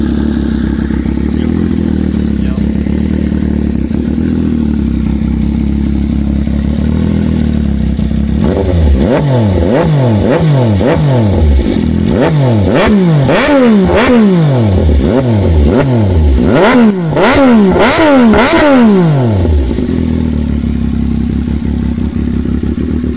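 A motorcycle engine idles steadily, then revs hard in a rapid series of sharp rising and falling bursts, loud and close, with no one speaking.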